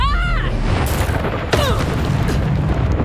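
Fire spell Incendio cast during a Hogwarts Legacy duel, a loud burst and whoosh with booming impacts over a constant low rumble of combat effects.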